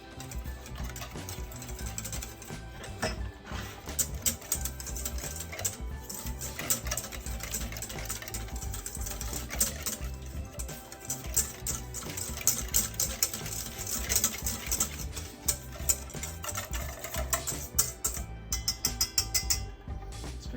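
Pancake batter tinted with blue and green food coloring is stirred briskly in a bowl, giving a continuous rapid scraping and clicking that runs steadily for about twenty seconds without speech.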